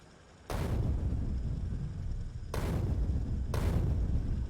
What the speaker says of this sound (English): I'm going to take a grenade